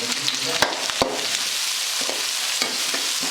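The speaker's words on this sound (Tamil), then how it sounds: "இப்போ வெங்காயம் வந்து நல்லா வதங்கிச்சுங்க" Onions and green chilies sauté in a hot pan with garlic, giving a steady close sizzle broken by a few sharp stirring scrapes and clicks of a spoon against the pan.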